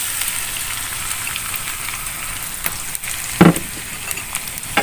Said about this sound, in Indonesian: Kita masukkan telurnya ya, yang sudah dikocok tadi ya